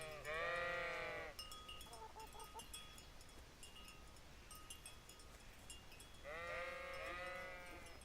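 Two sheep bleat in the video game Kingdom Come: Deliverance, one near the start and another near the end, wavering and nasal, with quieter ambient noise and light clicks between them.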